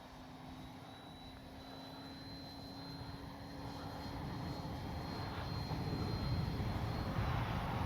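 Electric propeller motor of an Arrows SZD-54 RC glider in flight, a thin whining drone that rises and grows louder and rougher toward the end, fairly faint and far off, heard alone.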